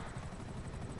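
A video game helicopter gives a brief, steady, muffled thrum of rotor and engine noise at moderate distance.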